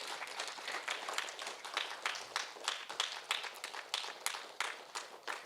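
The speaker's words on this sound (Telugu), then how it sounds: "గట్టిగా చప్పట్లు కొడదాం మాస్టర్కి." An audience at a meditation class applauds its master. Steady, fairly loud clapping from many hands goes on unbroken for several seconds, and no voices come through.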